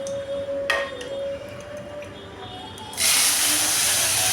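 Fried onions are tipped into hot dal, setting off a sudden loud, sustained sizzling hiss up close that follows a few quieter kitchen knocks and a faint tone.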